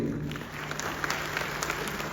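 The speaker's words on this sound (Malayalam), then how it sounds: "ഒന്നുകൂടെ ഒരു കൈയടി" Dense audience applause at a community stage program in an Indian club in Bahrain. Steady, close clapping fills the whole moment without a break.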